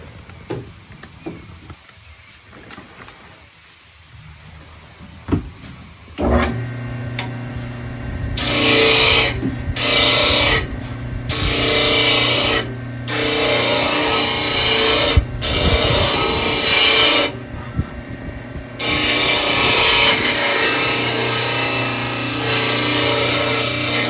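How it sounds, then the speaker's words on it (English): An old disc sander works on a part for a Wharram Tiki 21 boat build, starting after about six seconds of quiet and running loud and steady in repeated bursts with brief stops between passes. "And then I'm going to take it off with the old disc sander here."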